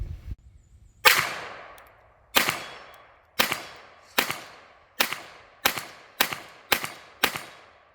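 A Ruger LCP II .22LR pistol firing CCI Quiet rounds: nine sharp, fairly quiet pops with short decaying tails, first spaced about a second apart and then coming faster, each followed by a brief metallic cycling clatter.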